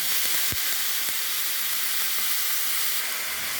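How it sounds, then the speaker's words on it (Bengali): Potato frying with turmeric, green chili and red amaranth makes a constant close sizzle and hiss, with a couple of knocks near the start and no talking. "আলুটা ভেজে নিচ্ছি, একটু হলুদ দিলাম, দিয়ে দিচ্ছি কাঁচামরিচ, এই লাল শাক দিয়ে দিলাম।"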